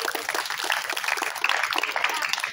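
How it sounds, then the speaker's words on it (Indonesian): Applause fills the air at an anniversary football club event for young people in a stadium, a dense steady wash of many hands clapping throughout, moderately loud with no break. "Tepuk tangan buat Mas Asai."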